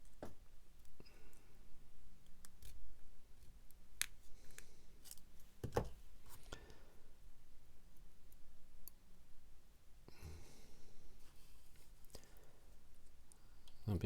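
A small section of a 1/32 scale Hasegawa Focke-Wulf Fw190 A-8 model part being cut: a few sharp, quiet snips and clicks spaced apart over faint background noise, with soft speech in places.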